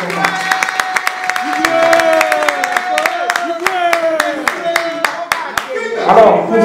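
A press-conference audience claps in rhythmic, evenly spaced beats that carry on steadily, with voices and singing heard over the clapping.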